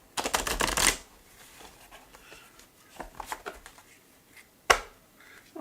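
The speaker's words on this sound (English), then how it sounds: "I'll shuffle twice." Tarot cards riffle-shuffle in a quick rapid burst, followed by softer card handling and taps, then another short sharp riffle near the end.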